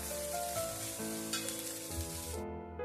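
Flattened rice upma with grated coconut being stirred in a pan, giving a steady close sizzle with soft scraping strokes that ends abruptly near the close.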